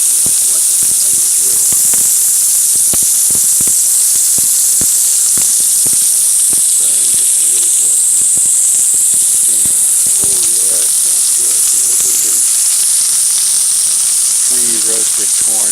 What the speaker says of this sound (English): roasted corn from yesterday going in there